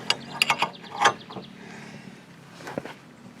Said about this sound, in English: So now we're going to go ahead and tighten up our ball.